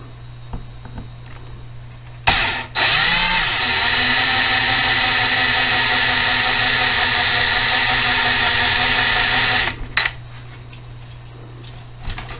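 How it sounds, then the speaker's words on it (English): Power drill boring out a part on a 1963 Chevy Nova, running at a steady high whine for about seven seconds, close and loud, with brief clunks at start and finish. "Let's get this bad boy drilled out."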